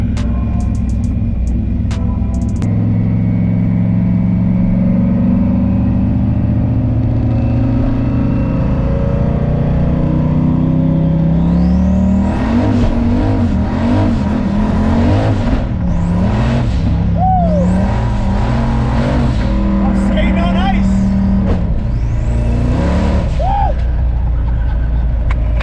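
A car with a 408 stroker engine rumbles deeply, then accelerates hard in several loud surging revs with gear-change dips, heard close up without talk.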